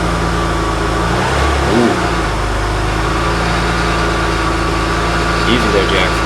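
A car with a stock muffler revs quietly, a steady low engine drone with a brief swell of throttle near the start, while people talk and exclaim over it.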